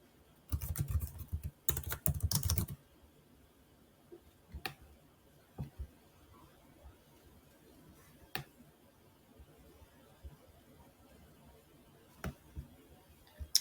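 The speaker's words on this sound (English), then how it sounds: "Now I'm going to type the text enroll now into the button." Someone types text on a computer keyboard while building a sales page in Canva: a dense burst of rapid key clicks for about two seconds, then scattered single taps and clicks, close and fairly quiet with no talk.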